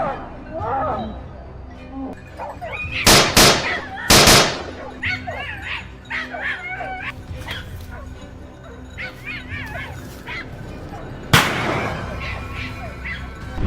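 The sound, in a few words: gunshots during wild boar hunt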